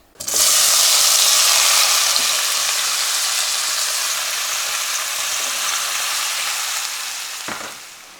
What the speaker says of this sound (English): Once you've chopped the tomatoes, put it into the pan.